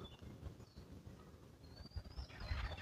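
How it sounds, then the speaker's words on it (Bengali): Wild jungle fowl call in the Sundarbans mangrove forest, a faint distant crowing heard over a steady rumble of ambient noise with no talk. "এই যে বন মোরগের ডাক দিতেছে।"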